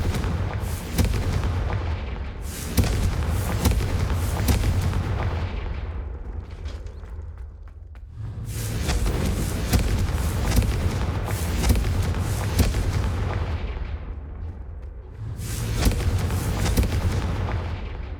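Confringo blasting-spell explosions in Hogwarts Legacy come as three heavy booming bursts, each a loud rumbling blast that rolls on for several seconds before fading, with short quieter gaps between them.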